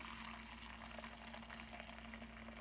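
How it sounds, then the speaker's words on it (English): Hot water from a tea kettle is poured into a Le Creuset enameled pot, giving a steady, faint stream of liquid with a constant low hum beneath, with no talking. "I'm just going to pour this water in."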